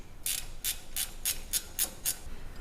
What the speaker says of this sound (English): Tighten down with a 12mm wrench.